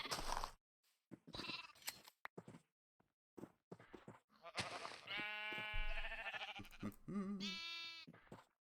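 Sheep in the Minecraft video game bleat several times, a few short calls and then longer wavering bleats in the second half, fairly close and clear, mixed with brief game clicks and footsteps.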